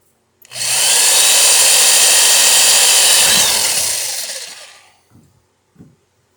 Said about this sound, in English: Alright, so all 3 holes are drilled